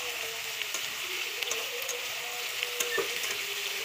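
Ridge gourd pieces are stirred in hot oil, a steady close sizzle broken by occasional light scrapes and clicks of the spoon against the pan.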